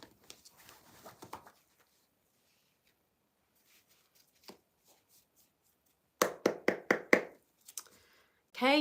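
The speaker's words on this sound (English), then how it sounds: "2 more shuffles." Cards are shuffled during a tarot reading, a few faint riffles early on, then a quick cluster of sharp, close snapping bursts, with quiet gaps in between.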